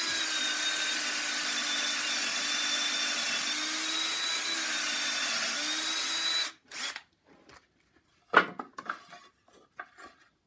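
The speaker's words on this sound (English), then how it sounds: "you just want to drill right through all 3 of them" A power drill runs steadily for several seconds, boring through three pieces of wood, then stops, followed by a few scattered knocks and clatters.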